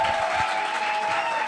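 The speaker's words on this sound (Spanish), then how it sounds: "Seguir aplaudiendo." An audience applauds continuously, a dense steady clapping wash with a faint sustained tone running through it and no voices on top.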